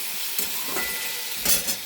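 A batter of flour, milk, egg, chopped onion, black salt and pepper fries gently in a pan, giving a soft, steady sizzle with a couple of brief louder hissing bursts, close by and with no talking.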